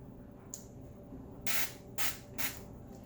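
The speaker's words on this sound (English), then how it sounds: "because I have a spray, and this is how little" Cooking oil spray greases the bottom of a baking pan for brownies, with three short hissing bursts up close, plus a faint hiss just before them, over quiet room tone.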